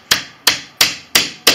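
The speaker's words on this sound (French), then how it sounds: "mettez un petit coup de marteau" Five sharp, evenly spaced hammer blows tap a nail into wood while fitting a window mosquito screen, each strike loud and close with a quick decay, no talking.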